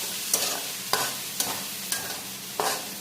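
Chopped capsicum and vegetables being stirred in a frying pan, about six evenly spaced scraping strokes over a low sizzle, close and moderately loud.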